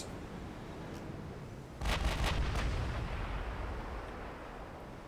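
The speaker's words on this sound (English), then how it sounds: "See what Lexington's long range gunnery is like." Long-range naval gunfire from the USS Lexington in a video game, heard as a sudden loud booming salvo of several overlapping blasts near two seconds, then fading into a low rumbling tail over steady background noise.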